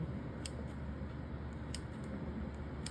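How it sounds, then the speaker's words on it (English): A few quiet, crisp snips of scissors cutting slits in the pastry crust of a chicken pot pie, spaced irregularly over a low steady background hum. "take a pair of scissors and cut some big slits in it"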